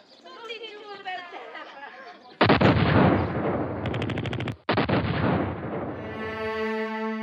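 A rapid volley of loud machine-gun fire bursts in after a voice speaks, cuts off briefly, then resumes, hammering close and relentless.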